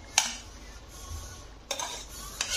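A spoon clinks against a pot while fried masala is stirred into mutton, giving a few sharp metallic taps over a quiet, soft background.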